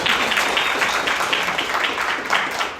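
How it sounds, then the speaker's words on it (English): An audience at a Chicago startup pitch showcase gives a round of applause, a dense patter of many hands clapping at moderate volume throughout, with no single claps standing out. "Round of applause, everybody."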